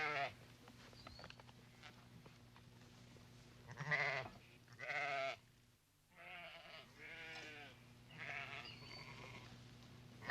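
A flock of sheep bleating at dawn on a high plateau in the Atlas Mountains, several wavering bleats of varying loudness rising over a steady low background hum, some fairly distant.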